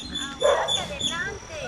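A small dog yips and whimpers close by in a short burst of high, strained cries, with people talking at the same time.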